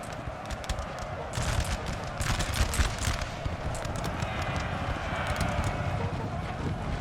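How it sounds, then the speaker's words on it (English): Cavalry horses charging in Napoleon Total War, a steady dense rumble of hooves mixed with crackling musket volleys throughout a large battle, moderately loud with no pauses. "Oh, we do have cav charging."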